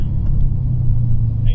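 A 2015 Mercedes-AMG C 63 S rolling into the pits at the Autódromo Internacional do Algarve in Portugal, a deep steady engine rumble close by while someone speaks over it.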